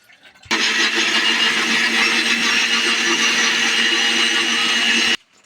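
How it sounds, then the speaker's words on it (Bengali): Electric blender grinding spices for a Bangladeshi fish curry, a steady, loud whirring roar that starts abruptly, holds evenly for about five seconds, then cuts off. "মশলাগুলো আমরা বেটে নেব"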